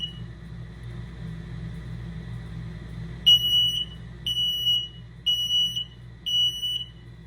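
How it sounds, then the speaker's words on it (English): A propane gas and carbon monoxide detector in an RV sounds its test alarm: four sharp, loud electronic beeps in a regular rhythm, each about half a second long, over a low background hum. "Down here is a propane gas and carbon monoxide detector. I put it in a test mode."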